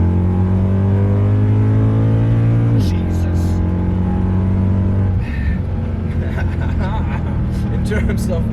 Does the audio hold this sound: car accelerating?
yes